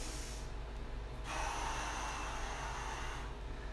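Close, audible breathing during an exercise session, a deep inhale through the nose and then a sustained airy exhale, heard alone at low level.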